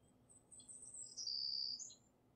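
Faint, high bird chirps and tweets trill in a short run over a low steady hum, as a sound effect for a forest scene.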